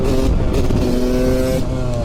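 A Yamaha YZ 250 motorcycle revs hard and accelerates through its gears, its engine a loud, close, continuous buzzing whine with a brief dip near the end; no voices.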